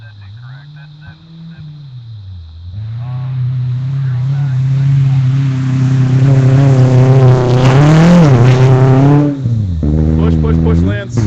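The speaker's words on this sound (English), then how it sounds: "Sounds like another Subaru to me." Subaru rally car on a sandblast rally special stage, its engine note climbing and swelling loud as it approaches and passes close by, revs rising and dropping through gear changes, with a voice talking over it.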